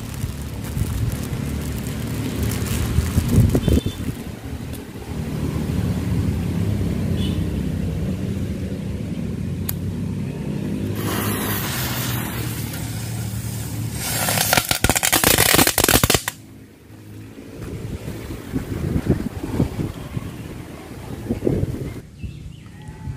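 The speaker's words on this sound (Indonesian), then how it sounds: "sekarang petasan prepet" Prepet firecrackers set off inside a used car tire outdoors, producing a long, dense rattle of rapid pops that runs on with wind noise and ends in a few louder final bursts.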